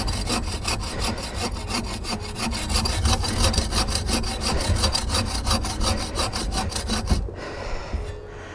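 A handsaw cuts through wood in steady, rapid back-and-forth strokes. The rasping is loud and close, with no talk, and it stops abruptly near the end.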